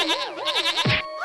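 A cartoon goat bleats in a wavering, vibrato cry lasting about a second, loud and close, ending in a short low grunt, with no talking over it.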